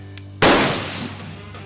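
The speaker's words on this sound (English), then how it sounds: "And now we're ready to start shooting." A single rifle shot cracks out sharply at an outdoor long-range shooting range with gongs set at 200 and 415 metres, a loud close report followed by a decaying rumble over a low steady hum.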